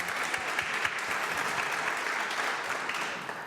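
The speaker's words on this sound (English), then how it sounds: "Can we give him one more round of applause?" Lecture audience giving a sustained round of applause for a speaker, dense even clapping filling the room from start to end without any talk.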